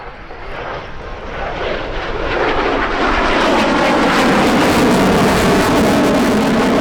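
A fixed-wing display aircraft at the RAF Cosford Airshow 2017 roars in, its engine noise swelling steadily from moderate to loud and holding a broad, sustained rush near the end.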